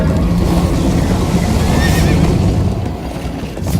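A horse gallops and neighs in Minecraft Story Mode, loud continuous hoofbeats pounding under a whinny, close and dense throughout.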